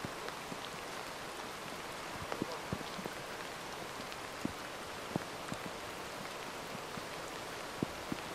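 Steady rain patters on a muddy hillside in Turkey during a morning wild boar hunt, a dense even hiss with scattered louder drops striking nearby, no voices.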